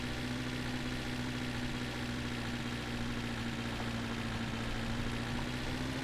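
A car engine idles steadily in The Long Drive video game, a faint low continuous drone with a constant tonal hum and no talking.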